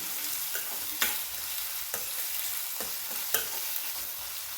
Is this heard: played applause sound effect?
no